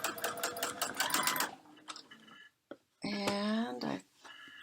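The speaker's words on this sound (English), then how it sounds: "I'm just going to stitch straight down to the next one on the end here" A sewing machine stitches rapidly in fast, even pulses during free motion quilting, then stops. A voice speaks nearby over the quiet that follows.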